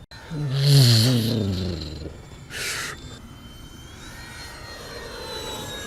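Freewing 80mm A-10 RC jet at partial throttle, a steady airy ducted-fan whoosh that swells and fades as it passes, with a brief brighter burst later and a soft continuous hiss, mid-distance outdoors.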